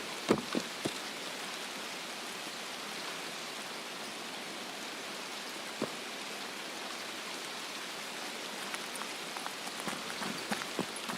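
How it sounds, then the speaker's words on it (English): Constant hiss of steady rain falling in a video game, Escape from Tarkov, even and unbroken, with a few scattered louder drops and clicks. "It's raining just above me."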